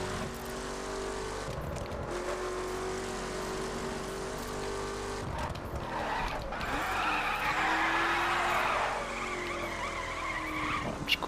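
Car drifting in the racing video game The Crew on PS4, with sustained tire skids and squeal over a steady engine drone, swelling louder midway through with no talk.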